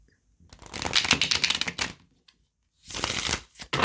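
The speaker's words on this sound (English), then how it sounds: "I'll just kind of I guess, overhand shuffle." A new, stiff tarot deck is overhand shuffled in two bursts of rapid, crisp card slaps and riffles, close up and moderately loud, separated by a short pause, with no talking.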